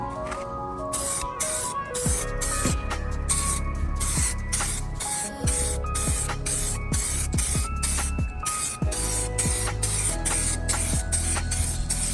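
Bursts of aerosol spray paint hissing from a can during a 2012 Ford Fusion rebuild, repeated short sprays separated by brief pauses, close and loud.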